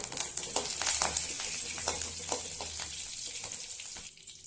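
Cashews and a sprig of curry leaves frying in hot oil for a ladies finger podi, giving a dense crackling sizzle with sharp spits that fades toward the end, close and alone.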